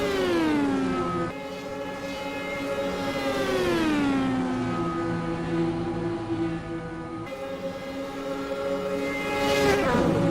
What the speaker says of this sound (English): I love hearing these cars scream around this track.